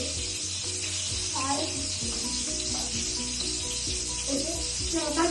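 Tomatoes and onions sizzling steadily in a hot pan while being cooked for Maggi noodles, a constant loud hiss with occasional stirring scrapes and faint background voices.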